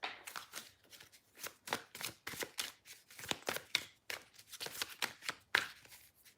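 Oracle cards for twin flames are shuffled close up in a quick series of crisp riffling bursts with short gaps between them. The shuffling is quiet and sounds on its own with no talking.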